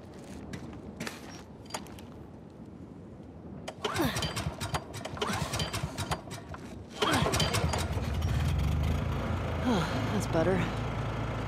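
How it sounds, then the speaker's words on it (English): A generator in The Last of Us Part 2 cranks and catches, then settles into a steady low mechanical run that grows louder, with voices talking before it starts. "Hey, found the generator."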